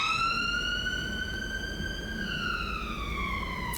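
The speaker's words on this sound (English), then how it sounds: "okay, sirens." A single emergency vehicle siren wails on a London street, a steady pitched tone that slowly rises and then falls, loud and continuous against low street rumble with no talk.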